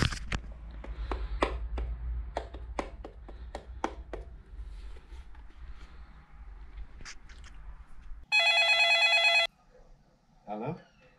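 A telephone ringback tone sounds during an outgoing call, one steady electronic burst after a stretch of clicks and handling noise, with faint movement around it.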